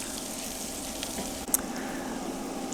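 Mushrooms sizzle gently in a hot pan for stuffed mushrooms, a steady soft frying hiss with a brief scrape or clink of a utensil as they are stirred.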